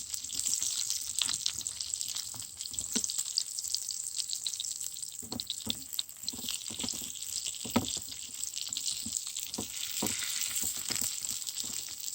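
Eggplant pieces sizzle and crackle steadily in hot oil in a pan, a continuous close frying hiss broken by occasional louder pops and stirring knocks, with no talking.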